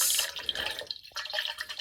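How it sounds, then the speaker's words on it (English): Water trickles and splashes into a container to make morning coffee, a soft close pour with faint dripping and no voices. "I'm putting water to make some coffee."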